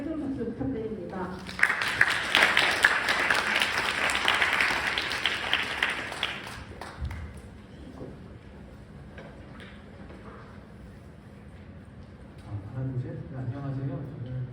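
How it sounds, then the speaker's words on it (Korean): Church worship audience applauding as a pastor comes forward, a dense burst of clapping rising after a moment and fading into low room noise, with a voice in between. "목사님 나오실 때 큰 박수 부탁드립니다."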